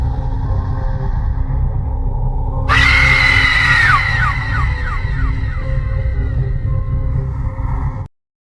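A loud, drawn-out scream sound effect from a horror story bursts over a low rumbling drone, wavering and breaking into a series of falling cries before everything cuts to silence.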